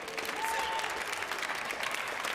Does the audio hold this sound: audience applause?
yes